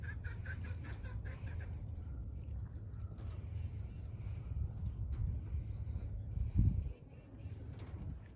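Hens clucking in short bursts close by on a farm, with a few faint chirps and a low background hum, plus a brief bump near the end.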